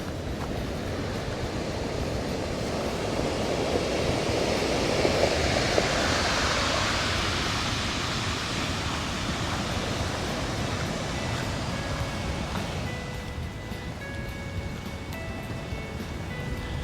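Loud, broad sea surf rolls continuously at Red Rocks Reserve on the New Zealand coast, the roar swelling and easing without break and then thinning toward the end.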